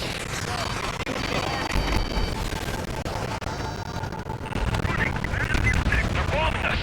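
Bombing and gunfire in the combat flight game Ace Combat 7: Skies Unknown, a dense, continuous roar of explosions and rapid shots that stays loud throughout, with radio voices talking over it.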